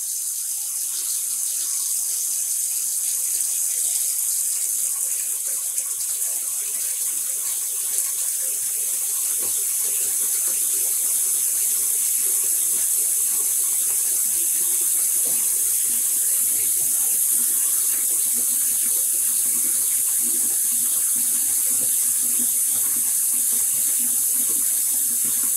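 Cold tap water runs steadily into a sink to rinse out residue from hand-dyed yarn, a loud, continuous close gush with faint handling noises and no talking.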